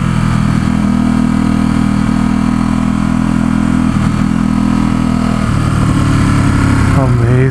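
A 2017 Ducati SuperSport S motorcycle engine drones steadily while riding on open roads near San Francisco, a loud, continuous mid-pitched hum with a slight pitch shift near the end, as someone talks over it.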